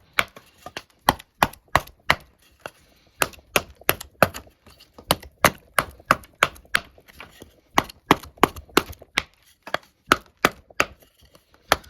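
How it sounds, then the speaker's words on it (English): Sharp, regular strikes of a Varusteleka Jääkäripuukko 140 knife chopping into wood, dozens of crisp close blows in a steady rhythm with brief pauses between runs. "let's see how it does at light chopping"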